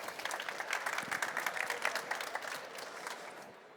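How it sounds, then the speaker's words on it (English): An audience at a business talk applauds a guest, a steady, fairly distant wash of clapping that holds evenly for several seconds before fading slightly. "Give him a warm applause."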